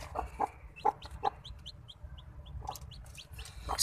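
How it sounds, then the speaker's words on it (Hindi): A hen clucking close by in a small home coop with a newly hatched chick, several soft clucks spaced unevenly between light handling noises, no talk. "मुर्गी को उठा लेते हैं।"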